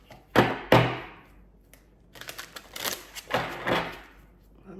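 Tarot cards shuffled by hand, giving two sharp riffling bursts early on and then a longer run of quick flicking and slapping, close up and fairly loud.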